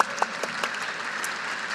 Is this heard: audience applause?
yes